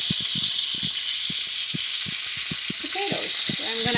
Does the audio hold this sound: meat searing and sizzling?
yes